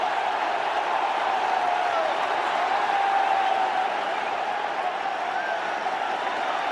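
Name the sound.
cricket Test match crowd cheering wicket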